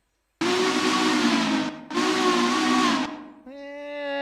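A locomotive steam whistle in the Railroader train game sounds loud and close in two long sustained blasts, then a brief, higher, more tonal third note, with no talking.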